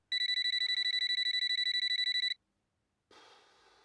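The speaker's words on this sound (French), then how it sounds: "quand le réveil sonne, voilà ce qui se passe" An alarm clock rings with a rapid, piercing electronic beep repeated evenly for just over two seconds, then stops abruptly before a softer rustling noise.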